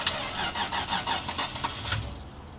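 A supercar's starter cranks with a dead battery, a rapid run of rhythmic mechanical pulses that struggles for about two seconds and then cuts out without the engine catching.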